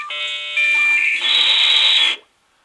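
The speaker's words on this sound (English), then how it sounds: "The modem makes a noise?" A loud, shrill electronic tone holds steadily for about two seconds, shifting pitch slightly partway through, then cuts off abruptly into silence.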